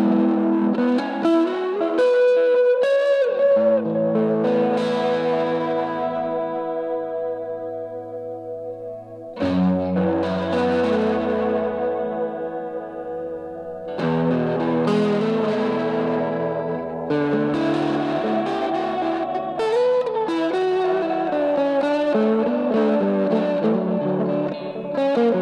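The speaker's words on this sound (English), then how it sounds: "Let's add a little vibrato from the Walrus Julia." Electric guitar riffs through a Walrus Audio Julia vibrato pedal in a stereo rig, ringing chords and single-note lines with a wavering pitch wobble and a lush chorus-like shimmer, loud and sustained with short pauses between phrases.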